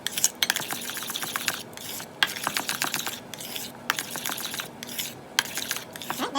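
Spoon stirring mayonnaise in a bowl with other ingredients mixed in, a steady run of close scraping and clinking strokes against the bowl, no voices.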